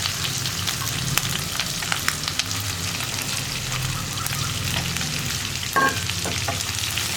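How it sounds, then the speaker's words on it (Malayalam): Chopped onions and green chillies sauté in a pan with ginger while being stirred continuously, giving a dense, constant sizzle broken by scraping strokes and a brief metallic clatter near the end. No one speaks. "ഈ സവോള ഒന്ന് നന്നായിട്ട് കളർ മാറി വരുന്നത് വരെ നമ്മളൊന്ന് ഇളക്കി കൊടുത്തുകൊണ്ടേയിരിക്കുക."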